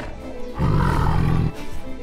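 A tiger in a modded Minecraft game gives one loud, close roar lasting about a second, rising out of quieter ambient sound and falling away again.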